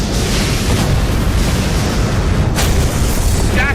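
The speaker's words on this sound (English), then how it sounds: "Massive secondary explosions." Massive starship explosion in a Star Trek fan film: a loud, sustained roaring blast with heavy low rumble, a sharper burst partway through, and no talk over it.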